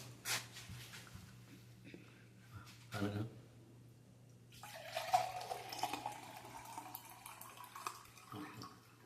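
Tender coconut water from a home-garden coconut is poured into a glass, a steady splashing gush that rises midway and runs for several seconds, with people talking around it.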